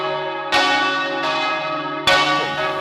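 Church bells of the Swan Bells ring in a bell tower, among them the largest bells of a twelve-bell ring cast in 1725; a few loud clanging strikes sound close with long, shimmering decays, and no one speaks.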